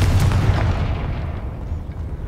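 A single booming blast from the Confringo spell in the video game Hogwarts Legacy, loud and close at the start, then a rumbling decay into quieter game ambience.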